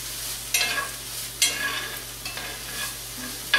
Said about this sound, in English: Bacon's starting to crisp up here